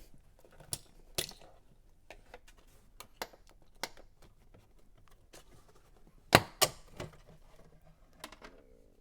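A plastic pry bar works trim clips loose inside a Fisker Ocean, giving scattered quiet plastic clicks and snaps, with a brief cluster of sharper pops near the end.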